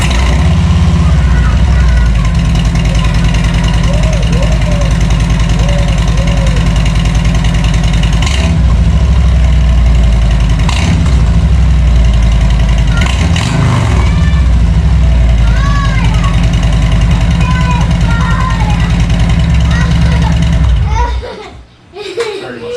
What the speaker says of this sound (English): Daddy started his bike